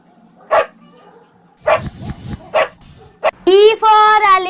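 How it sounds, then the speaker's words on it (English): Cartoon dog barking in a children's phonics alphabet song, a few short separate yips and barks followed by a longer, tonal whining bark, loud and close, with a brief voice-like burst between. "D for dog"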